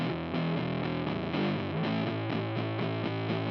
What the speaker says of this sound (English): Here's reverb all the way down and then the distortion side